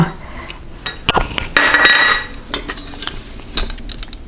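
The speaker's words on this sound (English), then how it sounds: "how to chop the egg by using your slicer" Boiled eggs pressed through a wire egg slicer in a Maltese home kitchen give a few sharp metallic clinks and taps, with one brief ringing twang in the middle, close and fairly loud with no talking.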